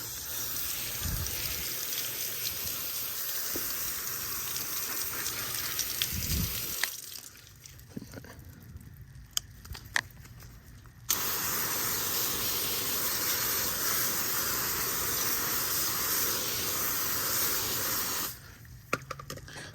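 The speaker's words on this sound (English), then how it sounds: "So let's give this a rinse." Water spray rinses a car tire and wheel after cleaner, a loud steady hiss that runs for several seconds, stops, then returns for another long burst before cutting off again near the end.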